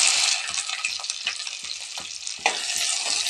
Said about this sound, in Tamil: இப்போ வந்து வெண்டைக்காயை நம்ம எண்ணெயில் வதக்கி எடுத்துக்கலாம்.